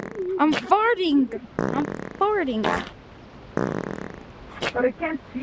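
A voice imitates fart noises during a video game, several wet, sputtering, wobbling bursts delivered in quick rhythmic runs with pauses between them, loud and close.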